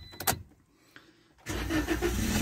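A couple of quick clicks and a brief crank, then a VW Golf Estate engine catches and settles into a steady, close idle with no chain rattle.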